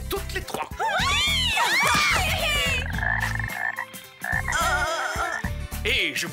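Frogs croak loudly and continuously in a cartoon scene, a dense, rapid chorus of warbling croaks with shrill cartoonish squeals layered over it.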